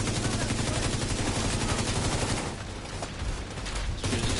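Dense automatic gunfire from The Division 2, on the Grand Washington Hotel Invaded mission, roars almost without break, loud overlapping bursts that briefly thin in the middle before surging again.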